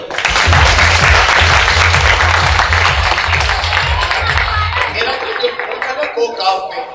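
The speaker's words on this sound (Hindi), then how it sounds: "अपने टीचरों के लिए तालियां बजा देते हैं।" Audience at a comedy magic show bursts into loud, dense applause for teachers, with a low rhythmic thumping beneath, tapering off after about five seconds into scattered claps and faint murmuring.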